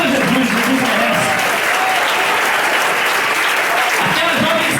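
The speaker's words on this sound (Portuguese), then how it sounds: "Aplauda Jesus, Jesus merece." Loud, dense applause from a Pentecostal church congregation fills the hall continuously, with voices shouting and talking through it.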